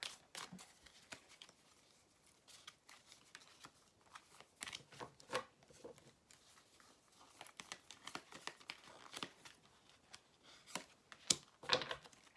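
Tarot cards shuffled by hand in a quiet room, giving a run of soft, quick riffling and flicking bursts with brief pauses between them, close and fairly faint, with no talk.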